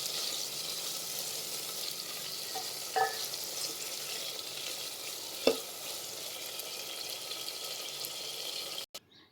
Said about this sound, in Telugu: టమాటా ముక్కలు దీనిలోకి యాడ్ చేసి బాగా వేగనివ్వాలి.